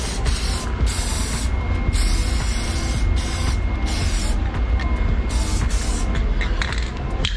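Weld-through primer hisses steadily from an aerosol can onto a 1969 Cougar quarter panel repair, loud and close, in several long sprays broken by short pauses, with no talking.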